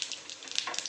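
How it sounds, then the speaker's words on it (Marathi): Cumin seeds tempering in hot oil give a short burst of light, crackly sizzling with small pops, faint and close, with no talk over it. "मी थोडं आता जिरं टाकतो"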